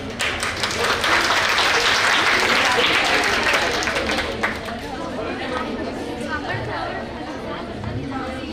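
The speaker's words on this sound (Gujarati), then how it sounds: "જોરદાર તાળી મારો" An audience at a youth training camp breaking into loud, dense clapping that swells over the first few seconds and then thins into scattered applause mixed with crowd chatter and voices.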